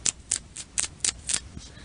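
Someone relighting a cigarette makes a series of about seven sharp, close clicks in an uneven rhythm, fairly quiet with a faint background hiss and no talking.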